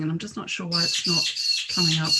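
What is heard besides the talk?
birds in the background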